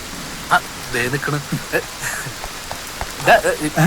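Rain falls steadily on surfaces outdoors, a soft patter heard beneath people talking.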